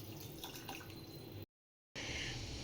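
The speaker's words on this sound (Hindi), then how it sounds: "अब जाएगा इसमें पानी।" Water pours into a cooking pot holding paneer, makhana and peas for a Sakat Chauth offering, a steady close splashing and trickling broken by a brief gap of silence, then resuming louder.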